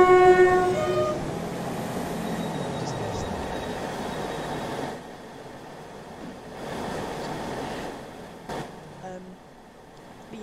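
Train in a Roblox railway game pulling out of a station, opening with a loud horn blast before the low rumble of rolling cars fades and swells, with a few sharp clanks near the end and some talk faintly underneath.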